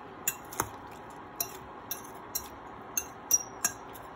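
A utensil clinks against a bowl while turkey sandwich filling is mixed with black pepper, giving a run of light, irregular metallic taps, close and fairly faint with no talk.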